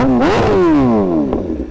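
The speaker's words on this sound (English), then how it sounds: "Just listen to that acro exhaust." A motorcycle fitted with an Akrapovic exhaust revs up close, its pitch sweeping up sharply and then sliding slowly back down, with a second, shorter blip near the end.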